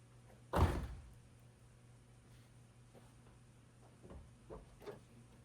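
A repaired Ford Mustang door latch shuts with one solid, close thunk, followed by a few soft faint knocks and clicks in a quiet garage.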